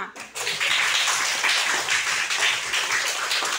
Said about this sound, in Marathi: एकदा परत जोरदार टाळ्या वाजवा